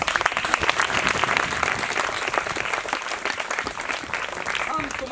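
An audience applauding, dense steady clapping from a crowd at an Indian gathering, sustained and fairly loud throughout without pause, no speech.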